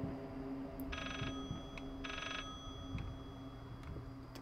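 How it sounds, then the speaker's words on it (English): In the horror game Layers of Fear, a clock rings in two short, bright bursts about a second apart over a faint, murky ambient drone, fairly quiet and distant. "Clock's ringing again."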